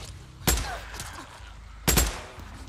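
Two sharp, separate gunshots about a second and a half apart in a zombie survival video game, each a loud crack that quickly fades over a quiet background.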